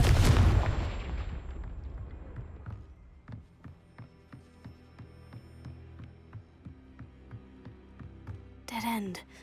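A Confringo blasting spell explodes in Hogwarts Legacy with a loud opening burst that decays into a long rumble, followed by evenly spaced footsteps and a short louder clatter at the end.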